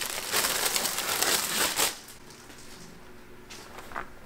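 Plastic and cardboard packaging of a Too Many Bones board game box being ripped open by hand after a knife cut, a dense burst of crinkling and tearing for about two seconds, then quieter rustling and a few small crinkles.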